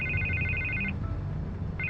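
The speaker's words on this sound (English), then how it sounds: "I can't get the phone to stop ringing." A telephone rings in the Batman Telltale video game, a close electronic trill that repeats in two bursts with a short gap between them over a low background hum.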